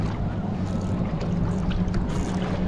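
A jet ski runs on calm sea water off Quy Nhon, Vietnam, giving a steady low engine drone mixed with wind and water wash, continuous and moderately loud throughout.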